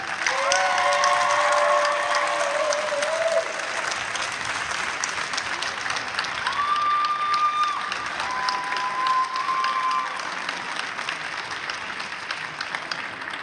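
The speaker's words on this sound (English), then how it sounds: "A big round of applause. Thank and say hello to all the people who supported you." A graduation audience gives a long, steady round of applause for the families and friends who supported the graduates. Dense clapping fills the hall and fades slightly over time, with a few tonal sounds mixed in.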